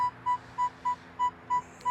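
A metal detector sounds a coin target in gravel, a series of seven short, evenly spaced beeps about every third of a second, clear and close with a faint background hum.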